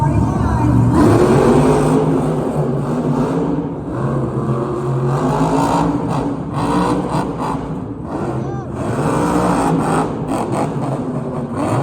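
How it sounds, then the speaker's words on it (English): A monster truck at a Monster Jam show in Greensboro, North Carolina, revs its engine loudly and continuously at the starting line in an arena, with an announcer's voice over the roar. "His engine is revved up, waiting on that second amber light as he approaches the starting line."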